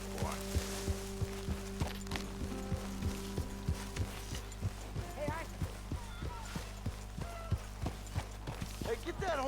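In the video game Red Dead Redemption 2, a horse's hooves clip-clop in an even walking rhythm over a constant low hum, with occasional background sounds and voices drifting in.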